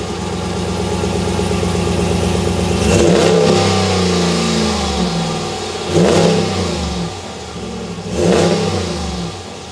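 A 2021 Ram 1500 Rebel pickup's 5.7-liter Hemi V8 heard from the rear, idling loudly with a steady low rumble, then blipped three times into sharp revs that rise and fall back to idle.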